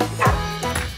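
A cartoon dog gives a few short, bright yapping barks in a cheerful children's farm song about building a farm with toy trucks. The barks are close and loud, with the song's music playing along.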